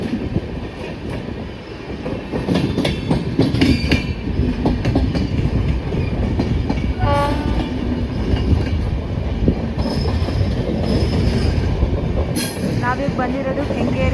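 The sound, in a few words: train running from MGR Chennai Central to Ashokapuram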